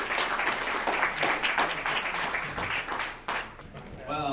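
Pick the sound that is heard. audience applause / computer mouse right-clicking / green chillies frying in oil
audience applause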